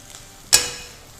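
Garlic drops into hot pork lard in a heavy iron skillet and gives one sudden sharp sizzle, then a softer hiss that tapers off over the following second.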